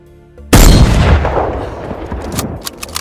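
A single loud gunshot in the DayZ survival game cracks out sharply after a brief quiet lead-in, then rings into a long decaying rumble with a few faint clicks near the end.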